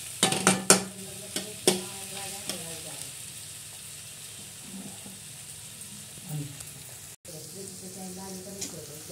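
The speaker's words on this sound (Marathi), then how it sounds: "हे बघा, आता आपण हा ठेचा टाकलेला आहे. हा सुद्धा आपण परतून घेणार आहोत." Chili thecha being sautéed in a pan for a village-style potato chutney with onion and tomato: a steady sizzle under clinks and scrapes of stirring, a few sharp knocks early on, with faint background voices.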